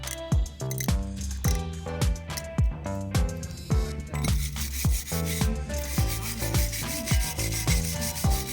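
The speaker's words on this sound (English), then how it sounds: "And then the last thing I gotta do is clean the gasket material off of this thing." Old gasket material is scraped off a transaxle part in quick, regular back-and-forth strokes, roughly two per second, each a harsh rasp heard close up with no talking.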